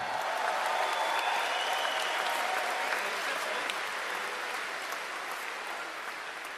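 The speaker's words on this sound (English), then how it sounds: "Let's give them a round of applause as well" Steady applause from a large outdoor crowd at a Canadian political rally, honoring a survivor; a broad wash of clapping that stays moderately distant and slowly tapers toward the end.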